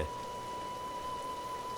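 Steady rain in a story scene, a soft even patter of drops with faint wind, low and continuous throughout with a thin tonal hum running beneath.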